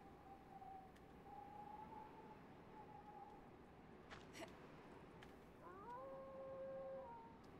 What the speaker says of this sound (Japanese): オオカミ鳴いてんだよな、